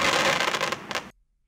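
Minecraft firework twinkle effect in a video game: a dense crackling, sparkling burst lasting about a second, close and fairly loud, cutting off abruptly into silence.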